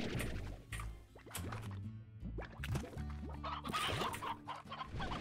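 Hens in the video game Slime Rancher cluck and squawk in quick, overlapping bursts. Several birds are close by and fairly loud, with no talking.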